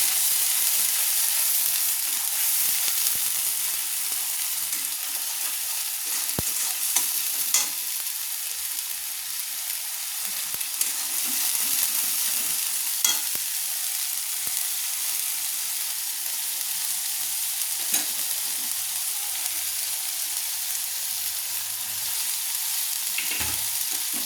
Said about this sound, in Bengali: এবার আমি গরম তেলের উপর দিয়ে দিচ্ছি। দিয়ে নেড়ে নিচ্ছি।